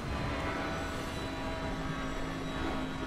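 A police helicopter in the racing game Need for Speed Hot Pursuit Remastered gives a continuous dense rotor and engine roar, steady and loud throughout, with no talk.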